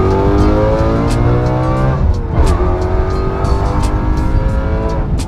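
A BMW E91 M3 wagon converted to the S65 V8 engine drives hard, revving loudly through rising gear pulls with a brief shift dip, heard close and continuous with faint tire noise.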